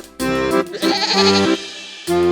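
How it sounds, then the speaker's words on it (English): A goat bleating loudly and close in a few wavering calls separated by brief gaps. "Goat."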